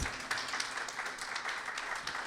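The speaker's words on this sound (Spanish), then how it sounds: "vamos a darle un fuerte aplauso" A church congregation applauds to welcome first-time visitors, a dense, steady patter of many hands clapping throughout, somewhat distant and moderately quiet.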